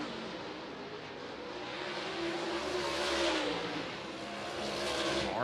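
Super late model race cars roar around a speedway oval, engines swelling and fading as they pass at a distance, with a steady crowd-like wash of track noise.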